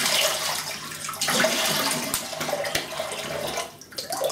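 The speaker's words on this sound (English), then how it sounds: "and I splash the cold water on my face there" Cold water splashed and running at a bathroom sink after a wet shave with a Parker 24C razor and menthol cream, a steady close wash of trickling and splattering water with brief louder splashes.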